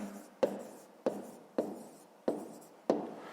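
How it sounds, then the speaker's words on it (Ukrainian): Handwritten notes being jotted with a pen on paper, close and quiet, five short scratchy strokes in a steady, evenly spaced rhythm. "Записуємо дерева."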